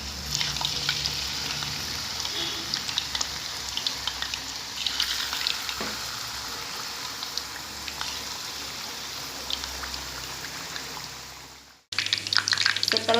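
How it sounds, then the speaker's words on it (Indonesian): Tofu fries in hot oil with a steady, close crackling sizzle and scattered pops, running continuously before cutting off abruptly, then resuming briefly. "goreng tahu dalam minyak panas."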